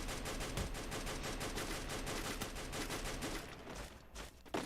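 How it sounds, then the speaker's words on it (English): Rapid, dense gunfire in the video game Free Fire during an esports match crackles almost continuously, a sustained fusillade of shots that thins out briefly near the end before another burst. "with some explosive gunfire"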